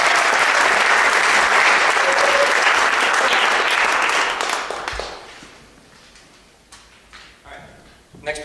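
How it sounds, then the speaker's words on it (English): Concert audience applauding trumpet players at a university spring jazz festival, a dense, loud burst of clapping that tapers off after about five seconds, leaving scattered claps and room noise. "Please give them 3 applause minutes."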